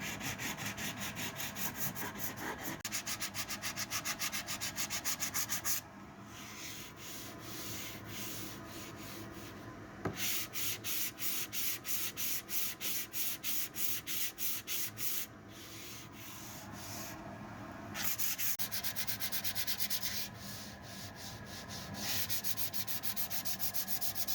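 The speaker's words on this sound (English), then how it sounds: "we'll go back to hand sanding." A handmade RC plane canopy is sanded by hand with sandpaper in long, steady runs of fast back-and-forth strokes, broken by short pauses, close and continuous with no voices.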